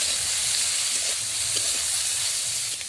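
Bottle gourd stem chutney with turmeric and chili powder sizzles in a pan while being stirred, a steady close hiss that holds throughout.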